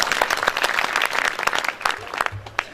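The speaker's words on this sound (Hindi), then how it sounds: "जोरदार तालियां आप बजाएं।" Audience applause at a Hindi kavi sammelan poetry gathering, a dense crackle of many hands clapping steadily throughout, moderately loud and close, with no break.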